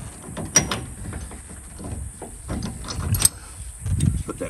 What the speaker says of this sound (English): Put that pin through, and then put my cotter through on the outside to lock it in place